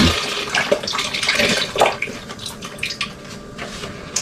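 Beef broth poured from a container into a soup pot, a steady liquid splashing and gurgling for about four seconds, close and fairly loud, with no talking.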